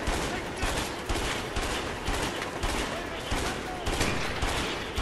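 Rapid, dense gunfire in the video game A Way Out, a loud, sustained barrage of overlapping shots throughout, with voices partly mixed beneath the firing.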